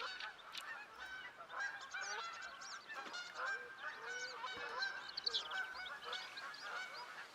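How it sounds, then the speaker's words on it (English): Geese in a Revontuli duck hunting game honk continuously in a dense, noisy chorus of many overlapping calls at moderate distance, with no talk. "geese are noisy"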